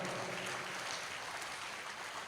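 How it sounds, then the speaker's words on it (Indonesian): An audience at a PKB party gathering in Karawang keeps up faint, distant applause as a soft continuous wash with no single claps standing out. "Boleh tepuk tangan, boleh."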